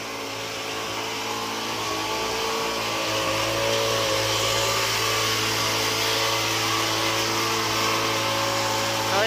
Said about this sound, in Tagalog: medyo maingay lang dito kasi gumagamit ng uh, motor